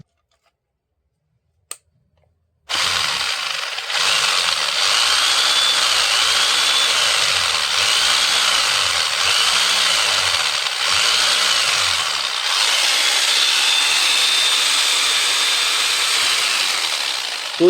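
A Dongcheng 3-26 hammer drill runs after a switch repair. A brief click is followed by a sudden start into a loud, steady motor whine that holds evenly to the end.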